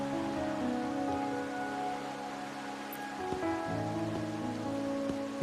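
Rain falling in the video game Wuthering Waves, a steady soft wash of drops beneath sustained musical tones, with a few sharper taps partway through.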